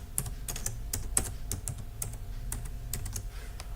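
Fingers typing on a computer keyboard while setting a Java JDK path, a quick irregular run of sharp clicks and taps close to the microphone, with no talking.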